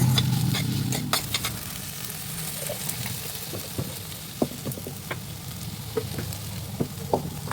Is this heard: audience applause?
no